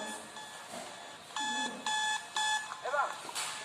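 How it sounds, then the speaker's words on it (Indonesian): A phone alarm rings in loud, steady electronic beep bursts, three evenly spaced pulses close by, with faint voices and room noise around it. "Nah ternyata itu suara alarm."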